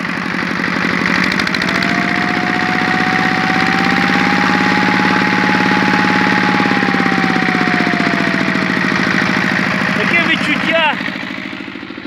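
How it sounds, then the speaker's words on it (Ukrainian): A car engine idling with a steady mechanical clatter and a turbine-like whine that rises slightly and falls, loud and close, ending with a few faint clicks. "Виє щось в самому двигуні."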